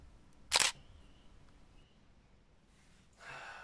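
A camera shutter snaps once, sharp and close, while taking a selfie, followed by quiet breathing and a soft rush of noise near the end.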